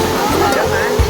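Katika waterfall in Andhra Pradesh gives a steady, loud rushing roar of falling water that fills the whole moment, with a person talking over it.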